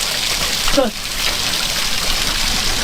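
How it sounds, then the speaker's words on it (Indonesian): Water flowing through a bathroom with no tap, a steady broadband rush that stays constant and fairly loud throughout, with a brief splash-like burst near the start. "Ini nggak ada keran ya, terus airnya ngalir."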